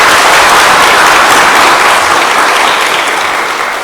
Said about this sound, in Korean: 이명수 목사님께 다시 한번 감사의 박수 부탁드리겠습니다